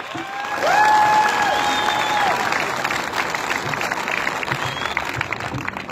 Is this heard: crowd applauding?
yes